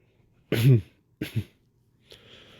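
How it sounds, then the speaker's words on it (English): Two short, sharp coughs about half a second apart, close and fairly loud, followed by a faint rustle. "As he starts to cough again"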